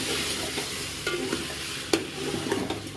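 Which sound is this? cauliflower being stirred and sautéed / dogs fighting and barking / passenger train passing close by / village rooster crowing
cauliflower being stirred and sautéed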